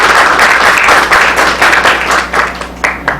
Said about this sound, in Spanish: quien saludamos con un fuerte aplauso